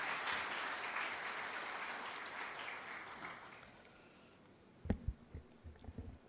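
Audience applause at a launch event welcomes a guest speaker: steady, dense clapping from a crowd fades out over several seconds, followed by a few separate louder knocks.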